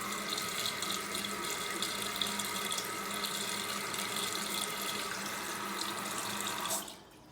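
A toilet tank refills after a flush through a Korky fill valve, giving a steady close rushing hiss of water that holds evenly and then stops sharply near the end.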